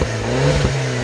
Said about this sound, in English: On the outside, this Mini Cooper S looks quite good, but engine-wise, it has quite a big problem.